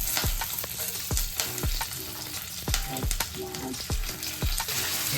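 Green chillies, curry leaves, chana dal and urad dal frying in hot oil: a loud, constant crackling sizzle broken by a regular scrape of a spoon against the pan about every half second.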